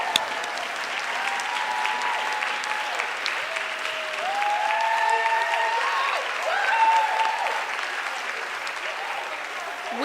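Alumnae at a college reunion meeting applaud loudly and steadily, a large crowd clapping in a hall for about ten seconds, swelling midway with a few whoops.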